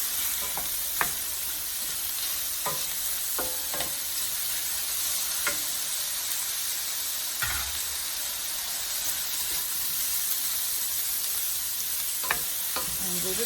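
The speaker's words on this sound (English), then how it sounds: "now I'm going to put in the mushrooms to this mixture" Onions and mushrooms fry in a pan with a steady bright sizzle and hiss, punctuated by occasional stirring scrapes and clicks, close and without talk.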